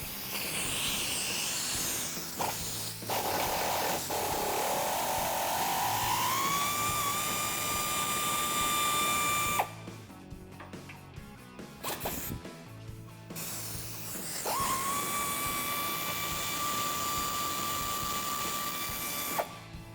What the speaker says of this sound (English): Take a 15mm socket on the ratchet.